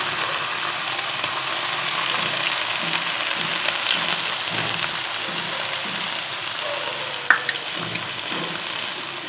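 Radish, eggplant and beans fry in a small amount of oil, producing a steady, close hiss and sizzle that holds evenly throughout, with a faint clink partway through.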